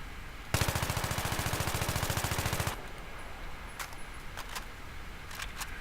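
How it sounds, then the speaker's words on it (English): An AEK-971 assault rifle with no attachments fires a fast, loud, steady automatic burst of about two seconds in the video game Battlefield 3, followed by faint clicks and quiet handling sounds. "So that is the gun, the way it shoots without any attachments."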